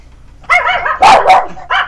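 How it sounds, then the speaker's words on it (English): Dogs bark in several loud, close bursts over about two seconds, with yips and a short pause between barks and no talking. "Those are dogs, if you haven't heard them in any of my other videos."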